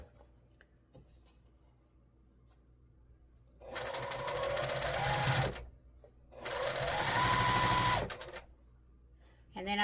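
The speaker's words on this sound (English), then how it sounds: "Fold it in half and sew the big long seam down the center." A sewing machine stitches the long center seam of a quilt block in two steady runs of a couple of seconds each, loud and close, separated by a short pause.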